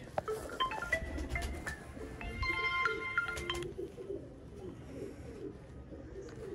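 Sialkoti pigeons, a rare feather-footed VIP breed, coo softly amid a busy backdrop of other birds chirping and whistling, with a steady murmur of ambient noise throughout.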